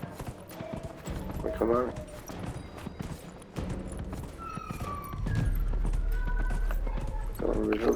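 A horse galloping in the video game Dragon Age: Inquisition, rapid hoof clip-clops under a voice, with game music tones and a low rumble building toward the end.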